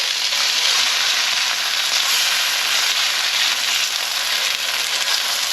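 Steaks pan frying in an Italian sauce, giving a loud, steady sizzle and hiss that runs unbroken throughout with no talking.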